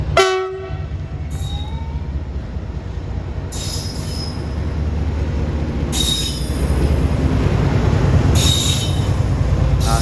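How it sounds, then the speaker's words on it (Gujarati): Freight train passing at a railway station, a loud continuous rumble of wheels on track with repeated high metallic squeals of wheels on rails and a strong horn-like blast at the start, steadily filling the scene. "ને આ બાજુથી માલગાડી આવી રહી છે."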